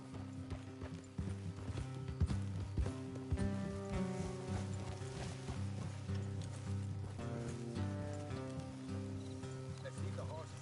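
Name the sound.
horses' hooves clip-clopping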